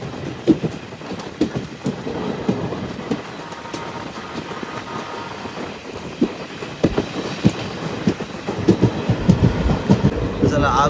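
The Narsapur Express, train 17256, rolls slowly through thick fog, a continuous rumble with irregular rhythmic clicks and knocks from the wheels, heard up close from aboard the train.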